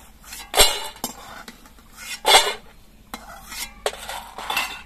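Fried lentil dumplings (bori) being lifted from hot oil in a pan, several sharp scraping and clinking strokes of a metal spatula against the pan over a faint sizzle.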